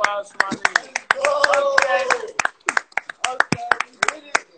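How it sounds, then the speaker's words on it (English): A few people clap and cheer in a small room during an Instagram Live hosted by a rapper, the sharp, scattered claps close to the microphone and mixed with loud voices and shouts. "Round of applause"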